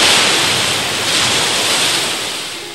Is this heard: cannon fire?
no